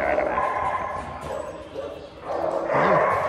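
Small dogs yip and bark in an indoor small-dog room at a doggie daycare, with a person talking over the excited yapping.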